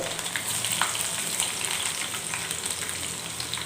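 Garlic sizzles steadily in hot oil for a Telugu cucumber dal tempering, a dense, even frying hiss with faint crackles that stays fairly loud and constant throughout, with no voices.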